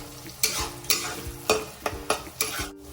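Spices frying with tomato, garlic, ginger and slit green chili in a pan, a steady sizzle broken by five or six sharp scraping stirs at irregular intervals.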